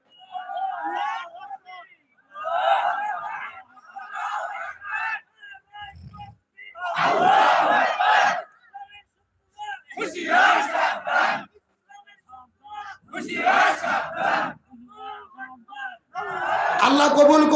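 A crowd at an outdoor Islamic sermon (waz) in Pabna, Bangladesh, answers a preacher's call with takbir chants: four or five loud, massed shouted bursts in a call-and-response pattern, separated by a lone leading voice and short pauses.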